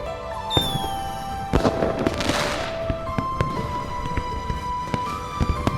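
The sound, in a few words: fireworks over the river in the video game Love and Deepspace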